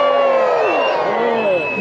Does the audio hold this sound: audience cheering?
yes